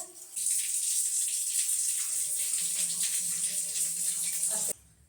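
Water pours steadily into a cooking pot in a continuous hissing splash for about four seconds before stopping, with faint kitchen background and no clear speech.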